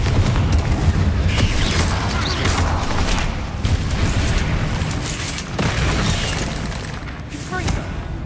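Rapid magical blasting and blast-spell explosions in a wizarding-school fantasy game: a dense run of booms, pops and shattering debris over continuous rumble, with a voice briefly under the action.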